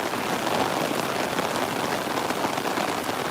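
Heavy rain pours down steadily, a dense, even hiss of drops hitting surfaces close by, with no break and no voices.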